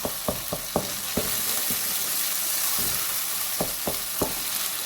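Onions and tinned tomatoes fry in a pan for aloo gobhi, a steady close sizzle punctuated by sharp clicks and knocks of a spoon stirring against the pan.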